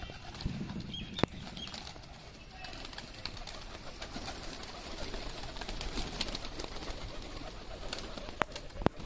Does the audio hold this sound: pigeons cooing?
yes